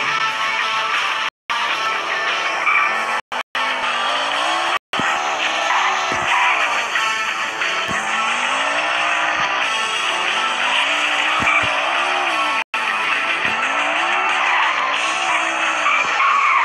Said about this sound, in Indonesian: Serak mobilnya, sekali ngegas tuh udah kayak truk guys, lemparannya jauh.